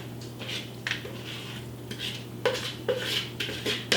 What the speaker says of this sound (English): now I will put the soup and the veggies into